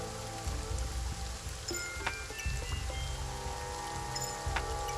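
Steady patter of rain in the side-scrolling game Kingdom: Two Crowns, a dense even hiss of drops with a few brief brighter ticks and chimes scattered over it, continuous and close.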